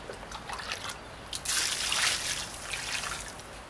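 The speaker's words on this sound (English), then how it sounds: "I'm probably not going to put any more water on than that" Water trickles and splashes onto a concrete mix, a light steady pour that swells to a fuller gush midway, heard close up with no talk.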